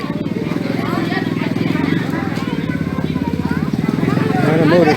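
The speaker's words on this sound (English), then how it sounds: "On a motorcycle." A motorcycle passes near a small-town street on election day, its pulsing engine rising and falling over about 5 seconds while voices and street chatter carry underneath.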